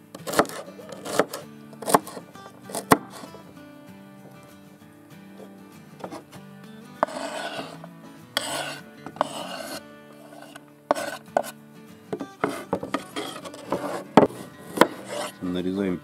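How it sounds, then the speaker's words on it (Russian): Celery and carrot being chopped with a knife on a board in a home kitchen, a series of sharp irregular chops and rasping scrapes, close and clear, with music playing in the background. "Вместе с морковкой нарезаем сельдерей."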